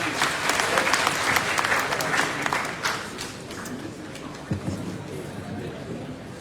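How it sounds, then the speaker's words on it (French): Audience applause fills a conference hall at a university history and geography faculty, dense steady clapping from many hands that gradually thins, with some voices murmuring underneath. "Une fois de plus, je vous invite à applaudir pour les doyens."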